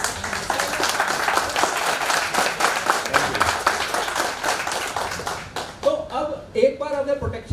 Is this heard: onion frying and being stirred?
no